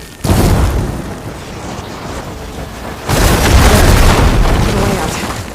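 Blaze barrels ignited by fire ammo in Horizon Forbidden West burst in two loud, close booms a few seconds apart, each followed by a rolling, crackling roar that slowly fades.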